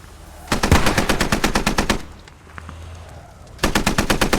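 Rapid automatic gunfire in a tactical shooter match, with one weapon firing long steady bursts, pausing briefly while another reloads, then resuming loud, close, machine-gun-like shooting.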